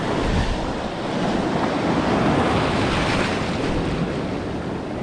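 Night sea surf rolls steadily onto a UK shore, a dense continuous wash of breaking waves with some wind rumble against the microphone, no voices.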